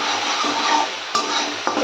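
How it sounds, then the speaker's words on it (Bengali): Spice paste sautéing in hot oil in a pan while being stirred, a steady close sizzle with a few scraping clicks from the spoon. "এবার এটাকে ভালো করে কষিয়ে নেব"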